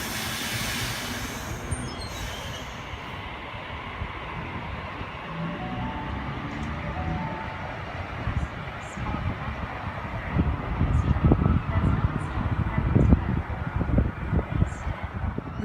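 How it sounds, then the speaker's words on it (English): A Waratah set train pulls out of Rhodes station in Sydney, a low rumble that builds into rising motor whine and clattering wheels on the rails, growing louder toward the end, with faint squeals and station ambience. "Waratah set A56 now departing."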